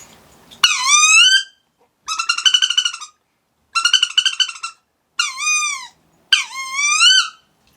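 A wood duck call blown in five separate bursts, each a loud, close, rising squeal with strong harmonics, separated by short silences.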